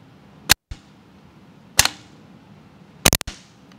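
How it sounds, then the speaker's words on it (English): A paintball marker with Spartan tuning fires sharp, loud single shots spaced more than a second apart, then a rapid double tap, each crack followed by a short rattling tail, with no talking. "as I hold the trigger down, you can hear about once every second and a half, the system is going to fire a shot"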